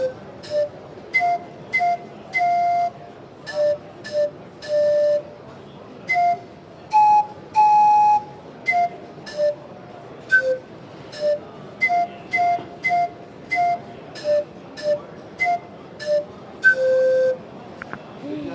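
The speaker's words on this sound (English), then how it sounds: "These are actually called steam whistles, and they're used for compressed air here at the show." Steam whistles sounded with compressed air at a science and engineering show, giving a long run of short, clear tonal blasts of varying pitch, some held longer, repeating steadily and loud with no talk over them.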